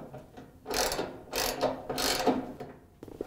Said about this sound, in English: reach around back and tighten down the nut